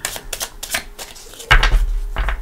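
Tarot cards shuffled by hand in close, crisp riffling bursts, growing heavier and louder toward the end, with faint talk now and then.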